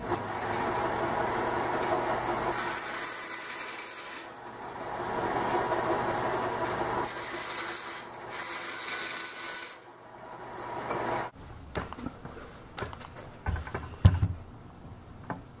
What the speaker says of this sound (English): I'm going to use a bandsaw first to just take off the corners.